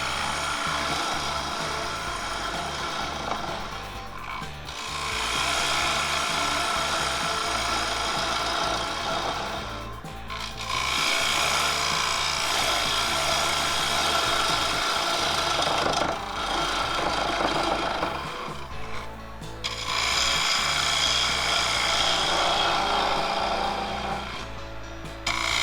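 A lathe tool cuts into a spinning fiddle back claret ash bowl, hollowing it in loud, gritty scraping passes that pause briefly between strokes.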